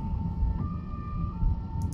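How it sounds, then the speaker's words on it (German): An ambulance siren sounds from a car on a road with a bus lane, a faint steady wailing tone heard from inside the vehicle over low road rumble. "die Ambulanz kommt jetzt auch auf dieser Busspur, weil die natürlich frei ist"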